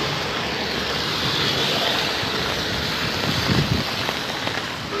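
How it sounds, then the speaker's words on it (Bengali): Gusty wind with heavy flood rain in Noakhali, a steady broadband roar of wind buffeting and rain hiss that holds loud throughout, with a slightly stronger gust near the end and no voices. "দমকা হাওয়া যাকে বলে,"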